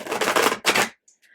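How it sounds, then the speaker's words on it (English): A tarot card deck is shuffled close up in two quick riffling bursts of dense crackling card flutter, followed by a brief pause and faint tones. "I'm shuffling, but don't worry."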